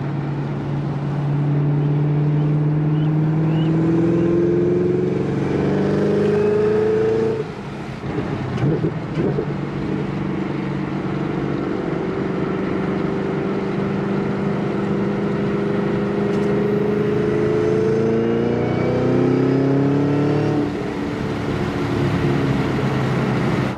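A Chevrolet Camaro ZL1 1LE engine with an AWE Tuning exhaust revs loudly and climbs in pitch, briefly dropping off between shifts before pulling up again through several gears, close and steady throughout.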